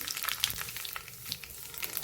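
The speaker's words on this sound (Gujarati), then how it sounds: "તો અહીં આપણું તેલ ગરમ થઈ ગયું છે તો નાની દોઢ ચમચી જેટલી રાઈ ઉમેરશું" Mustard seeds sizzle and pop in hot oil in a wok, a dense close crackle with sharp bright spatters scattered throughout, alone without talk.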